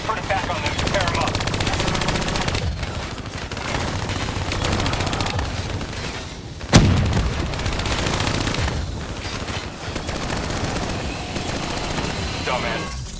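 A video game firefight in which shots bring down vats, with dense, continuous machine-gun fire filling the scene, one sharp loud impact midway and a game voice speaking over the shooting.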